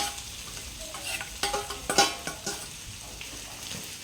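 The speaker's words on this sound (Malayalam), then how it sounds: "ഒരു 5 സബോള ഞാൻ ചെറുതായി അരിഞ്ഞു വെച്ചതാണ് ഇതിലേക്ക് ഇട്ട് കൊടുക്കുന്നത്" Chopped onions drop into a hot pan and fry with a steady sizzle, while a spoon stirs them with a few clattering taps and scrapes against the metal.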